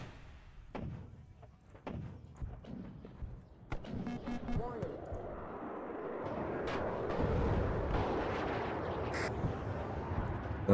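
Booming explosions and gunfire from a bombing run in the Cold War strategy game WARNO, a string of sharp blasts rising into a dense rumbling barrage, with someone talking over much of it.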